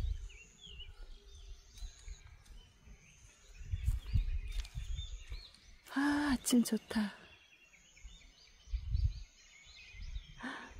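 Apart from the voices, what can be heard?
birds singing in the morning at a reservoir campsite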